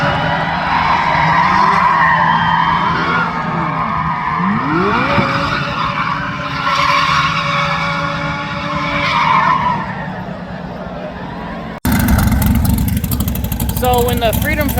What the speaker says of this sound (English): and is doing donuts.